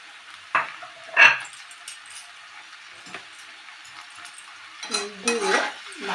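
Spoon stirring crumbled bori into mashed bean bhorta in a pan, with a few soft scraping strokes and clinks spaced apart, then a busier scraping stretch near the end; close and fairly quiet.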